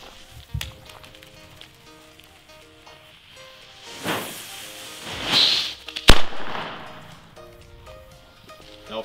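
Nico Meteorschlag firecrackers go off outdoors, with sharp loud bangs at intervals. A sizzling fuse hiss comes first, then a very loud close blast near the middle, and fainter pops sound around it.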